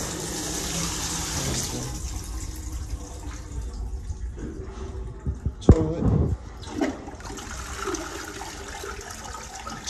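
A toilet in a beachfront condo bathroom runs with water, a steady wash that rises to a louder gush partway through, with some voices and handling noise around it.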